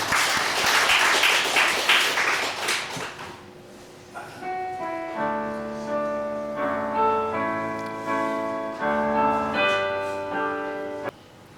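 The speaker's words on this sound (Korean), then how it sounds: "우리 영광의 박수 하나님께 드립니다." A church congregation applauds loudly in worship for a few seconds, then the clapping fades as sustained organ or keyboard chords take over and carry on alone.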